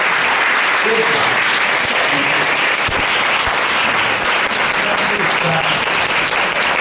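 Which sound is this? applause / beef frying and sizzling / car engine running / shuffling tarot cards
applause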